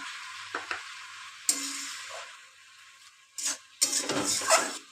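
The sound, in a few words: adding lentil dumplings (bori) to frying spinach curry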